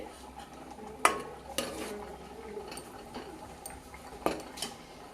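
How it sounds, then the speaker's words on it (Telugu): A utensil scrapes and knocks against a pan while onion, ginger-garlic paste, cumin and green chilli are stirred for a fish curry. Several distinct clanks come over a faint background sizzle. "ఇప్పుడు కలుపుకుంటున్నామండి"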